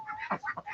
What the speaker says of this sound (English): we feed our chickens